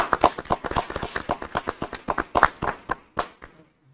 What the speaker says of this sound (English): Dr. Sanchez was clapping loudly